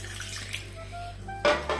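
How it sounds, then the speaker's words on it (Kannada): Water poured into a wet grinder holding soaked rice and fenugreek for dosa batter, a short splashing rush that swells loudly near the end over a steady low machine hum. "ಸ್ವಲ್ಪ ನೀರು ಹಾಕು"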